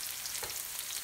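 Chopped onion with salt sautéing in a pan for gobi Manchurian, a brief, faint, steady frying hiss with a soft stir in the middle, no voices.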